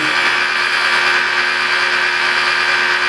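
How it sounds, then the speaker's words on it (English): A car polisher with a wool pad running on black car paint at roughly 1500 to 2000 RPM gives a steady, loud, continuous whine and hum throughout, close by, with no talking. "I don't burn through it with the polisher either"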